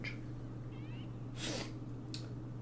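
Indoor cat meowing restlessly while kept inside during a storm: a short, faint mewing call near the start and a brief warbling cry, then two sharp bursts like a sneeze or hiss, over a steady low hum.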